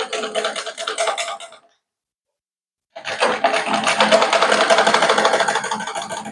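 A sewing machine stitches a gown in two bursts of rapid, close mechanical whirring, the first short and the second longer and steadier, separated by a brief pause.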